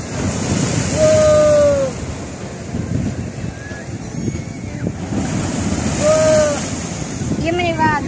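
Ocean surf at Pyrgi Long Beach, with waves washing in under steady wind noise, swelling loudly around two points in the clip, while people's voices and whistling calls rise over the roar.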